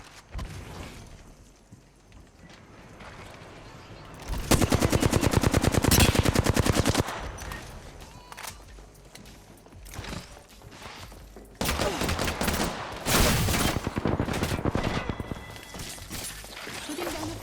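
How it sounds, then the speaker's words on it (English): Video game gunfire rips through a fence in two long, loud bursts of rapid automatic shots, each lasting a few seconds, with quieter scattered shots and game noise between them. "Shooting down the fence."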